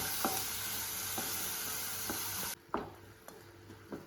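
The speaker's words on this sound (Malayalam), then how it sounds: "നന്നായിട്ട് ഇളക്കി ഒഴിച്ചിട്ടെടുക്കും" A chopped ripe tomato mixture is stirred in a sizzling pan for a bread sandwich filling, with rhythmic utensil scrapes over a bright frying hiss that suddenly drops to a quieter simmer partway through.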